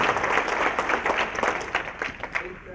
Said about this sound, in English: So a round of applause for Horizon